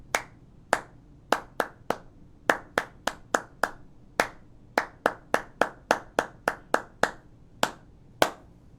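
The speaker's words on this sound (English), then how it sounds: "I'm going to clap only the rhythm." Bare hands clap out a song's rhythm alone, the claps close and crisp, landing in uneven groups with short pauses between phrases and no talking over them.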